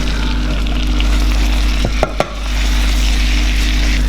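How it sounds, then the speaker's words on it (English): Butter bubbling and sizzling loudly in a close pan for a croque monsieur roux, a dense steady fry broken by a couple of sharp clinks midway. "When the butter starts to bubble,"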